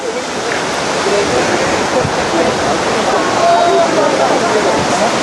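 Bridal Veil Falls in Yosemite roars as a steady, loud broadband wash of falling water, close by and continuous throughout, with faint voices barely audible beneath the rush.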